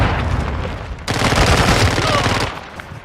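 Rapid gunfire with grenade blasts erupts in a video game combat scene at a hard point, a dense barrage running nearly continuously at close range, louder in the middle and then easing off.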